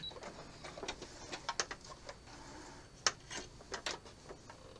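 A sewing machine stitches a few stitches and back stitches on fabric for table linens, giving faint, uneven ticking and short bursts of needle clatter, close and quiet.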